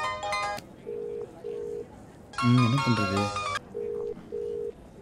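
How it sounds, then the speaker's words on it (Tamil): A mobile phone ringtone plays in repeated short melodic bursts with steady beeping tones between them, while someone speaks over and between the rings. "ரிங்டோன் வேறு சகிக்கல, நீ ஃபோன் ஏற்றலாமா?"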